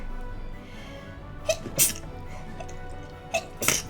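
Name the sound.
sneeze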